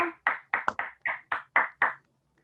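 Applause during a virtual cultural conference: about eight crisp, evenly spaced hand claps, close and distinct, each followed by silence, ending in quiet.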